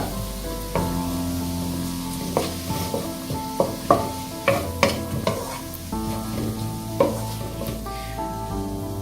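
Onions sautéing in a pan for a Kerala-style beef fry, a steady sizzle with repeated clinks and scrapes of a spoon stirring against the pan, close and fairly loud, with no talking.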